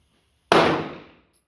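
A single sharp shot from a Tisas 9mm Tank Commander pistol with a short barrel, a loud close crack with a bright ringing decay that fades over about half a second after silence.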